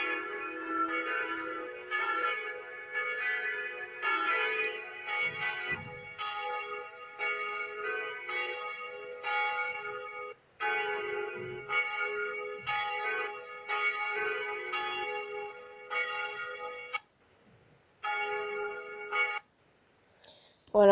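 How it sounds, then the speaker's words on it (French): Three bells of a new church ring together in a dense, repeated clanging pattern, loud and resonant with brief pauses, while a voice speaks intermittently. "voilà comment le plénum des 3 cloches ont sonné"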